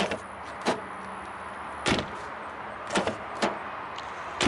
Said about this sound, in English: Listen when you tug on the handle.